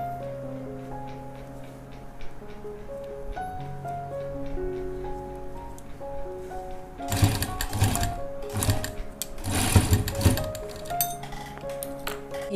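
A sewing machine stitches a koti jacket for a frock or kurti in a few loud short bursts over a quiet background with sustained tones.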